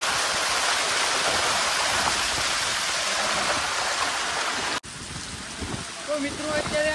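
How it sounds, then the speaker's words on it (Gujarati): Heavy monsoon rain pours on Girnar mountain near Junagadh, with water running down the stone steps: a dense, steady roar close by that drops suddenly near the end into a softer wash with light splashing. "મિત્રો અત્યારે જુનાગઢ માં ધોધમાર વરસાદ છે"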